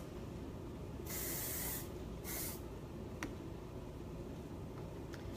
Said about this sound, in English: And then I spray it in place.